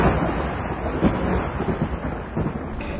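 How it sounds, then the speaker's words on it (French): Low thunder from a storm rolls on continuously in the distance during a hike, a deep rumble with slight swells and no clear sharp cracks. "l'orage qui gronde vraiment au loin"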